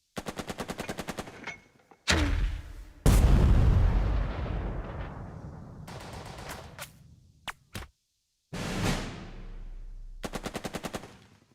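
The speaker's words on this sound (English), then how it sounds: "How about the machine gun?" Rapid machine gun bursts rattle from a WWII tactics game, followed by a heavy explosion-like blast and decaying rumble, then scattered single shots and short bursts separated by silence, with no voices.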